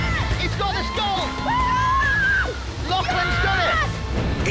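Heavy water pours down onto adventurers in a jungle game show, a continuous loud sloshing rush while a commentator talks excitedly over it.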